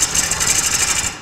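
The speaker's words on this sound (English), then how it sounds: "Now I'm starting to rub the bevel." A lathe gouge rubs its bevel against a spinning walnut bowl blank on a screw chuck, giving a steady, close, hissing scrape that pulses with each rotation and then fades at the end.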